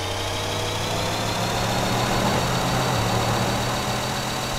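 A car engine in the video game GTA 3 drones steadily as the car climbs a hill. The low hum stays constant and fairly loud, with no talking over it.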